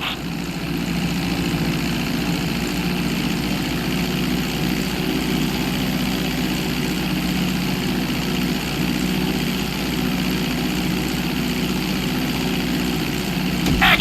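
A plane's engine drones steadily during a runway landing in GTA San Andreas: a loud, continuous propeller hum with a constant low rumble that holds unchanged for the whole stretch, with no voices.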